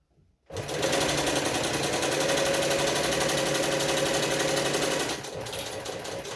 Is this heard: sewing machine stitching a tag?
yes